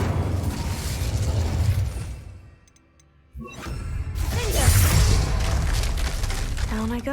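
An Incendio fire spell in Hogwarts Legacy bursts loudly with a roaring blast, then fades to near silence before another heavy rush of crackling, booming energy returns and sustains.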